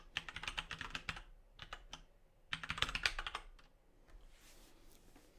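Typing on a computer keyboard comes in close, quick bursts of clicky keystrokes, two dense runs separated by a brief pause, and then it trails off into quiet.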